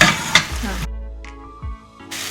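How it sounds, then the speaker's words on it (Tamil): Soaked, drained moong dal is sautéed in a pan for a banana flower kootu, giving a brief burst of sizzling and stirring that drops away into near silence. "இந்த பாசி பருப்பை போட்டு நல்லா வந்து வதக்கலாம்."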